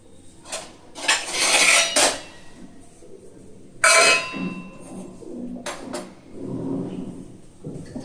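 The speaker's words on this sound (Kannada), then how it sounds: "ಮತ್ತು ಇನ್ನೊಂದು ಬಾಣಲಿ ತೊಳೆಯಕ್ಕೆ ಪಾತ್ರೆ ಜಾಸ್ತಿ ಆಗ್ತದೆ" Metal pots, pans and a frying pan are washed at a sink, clanking and clattering against each other in several loud, close bursts separated by quieter scraping and rinsing.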